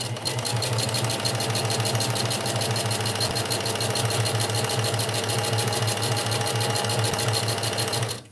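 A sewing machine stitches fabric at an even fast pace, producing a loud, close, rapid mechanical clatter over a steady motor hum for several seconds before stopping.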